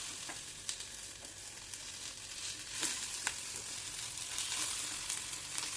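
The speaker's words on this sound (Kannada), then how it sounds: "ಇವಾಗ ಮಾಡ್ಕೊಂಡಿರೋಂಥ ಆಲೂ ಪನ್ನೀರ್ ಟಿಕ್ಕಾನ ಡೀಪ್ ಫ್ರೈ ಮಾಡೋಣ." Aloo paneer tikka frying in a little oil on a tawa, a soft low sizzle with occasional sharp crackles and spatula clicks, quiet and close, no speech.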